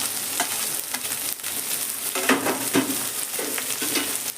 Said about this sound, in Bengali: সবজিগুলোকে আমি তেলের সঙ্গে নেড়ে নেবো